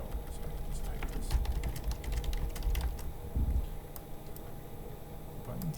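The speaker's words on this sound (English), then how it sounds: "So I can just type this." Rapid, irregular keystrokes clatter on a computer keyboard as text is typed into a form, with a voice speaking briefly alongside the clicking.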